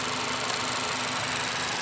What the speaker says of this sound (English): what we're gonna wait is for the engine to die